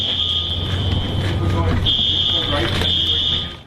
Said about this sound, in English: I'm going to guess that's the fire alarm.